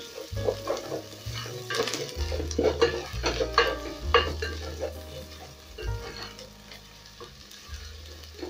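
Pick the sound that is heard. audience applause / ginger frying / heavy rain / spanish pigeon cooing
ginger frying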